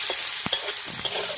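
Potatoes with turmeric fry in a pan with a bright hiss, while a few stirring scrapes and knocks cut through the sizzle, close by and with no talking.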